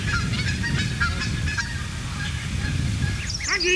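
Goslings (young geese) calling in a busy chorus of high, repeated peeps and honks, fairly close and continuous, with a louder burst of calls near the end.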